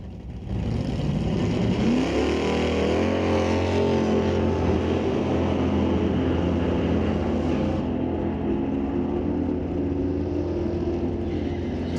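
A 1972 Chevelle and a 1965 Comet launch at a drag strip, engines roaring loud and rising in pitch as they pull away, the steady blare fading somewhat toward the end.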